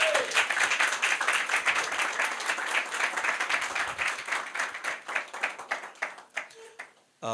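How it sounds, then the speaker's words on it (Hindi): A church congregation gives a loud round of applause in praise of Jesus during a Hindi Christian sermon, dense clapping filling the room for about six seconds before tapering off into scattered claps and a brief pause. "आइए यीशु के लिए एक जोरदार ताली बजाएंगे।"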